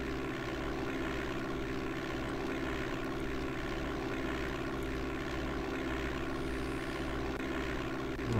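Propeller airplane engine in the DOS game Flight Simulator 5.1, flying near Duluth: a steady, loud droning hum with a constant low throb that holds evenly throughout, with no talk over it.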